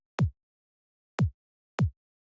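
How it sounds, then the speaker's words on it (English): Free Cloudstorm kick drum sample played three times in FL Studio for a future bass track, each hit a short, punchy low thump with a quick decay and clean silence between, the last two hits coming closer together. "I'm using this Cloudstorm free kick."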